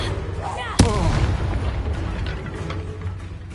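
In Hogwarts Legacy, a Confringo blast spell explodes with a sharp, close boom and a rumbling tail. It sits over dense, continuous battle noise and a falling whistling tone.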